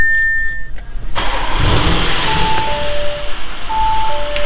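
A 2017 Audi S6 engine cranks and catches, then settles into a close, steady idle, with short electronic chimes from the car sounding over it.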